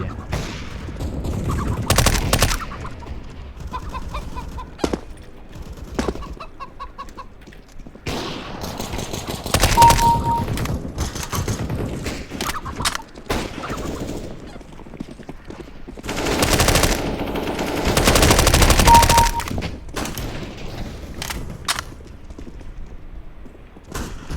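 Bursts of muffled automatic gunfire from a suppressed MP5-SD submachine gun in Counter-Strike: Global Offensive come in rapid rattling volleys, with game sound effects and occasional clicks between the bursts.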